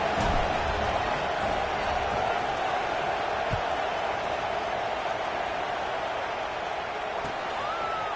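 A large football stadium crowd roars continuously at kickoff of an Ohio State game, a steady loud wash of noise heard throughout.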